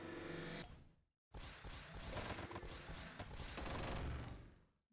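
Disco ball and rocket combo going off in the mobile puzzle game Toon Blast: a short chime, then a brief gap before a dense burst of crackling blasts and rattling effects that stays loud for several seconds.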